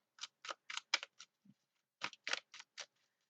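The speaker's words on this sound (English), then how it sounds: "I'm going to keep you on down here so you can see me shuffling." A run of short, crisp tarot-card shuffling bursts in quick succession, a brief pause, then several more riffles; close and fairly quiet.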